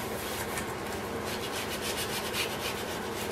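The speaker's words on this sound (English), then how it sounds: "I'm just gonna do a light sanding. I've got 220 grit sandpaper" Light hand sanding with 220 grit sandpaper over a semi-gloss clear coat on a taxidermy habitat build: soft, close, continuous rubbing strokes in a steady back-and-forth rhythm, heard alone.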